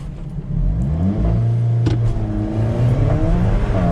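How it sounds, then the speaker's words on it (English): An Alfa Romeo 4C launching hard under launch control on an empty runway, its engine roaring and climbing through the revs with a brief shift dip midway, loud and close throughout. "we can do a nice little launch control as well whilst we're at it"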